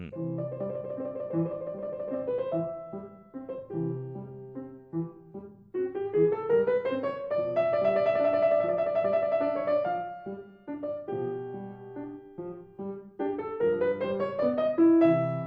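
A slow, lyrical Adagio Grazioso movement from a piano sonata plays with sustained chords and a gentle singing melody, rising and falling in soft phrases.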